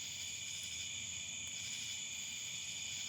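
Insects drone steadily outdoors at night, a continuous high-pitched buzzing chorus held at an even, moderate level with nothing else heard.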